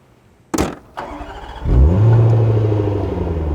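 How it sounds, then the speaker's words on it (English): A 2020 Range Rover Autobiography long-wheelbase P525 with a supercharged 5.0L V8 fires up with a sharp bark, then settles into a loud, deep, rumbling idle exhaust note that continues steadily. "why don't we let you just enjoy the exhaust note"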